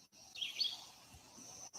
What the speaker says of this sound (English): you can hear birds, right?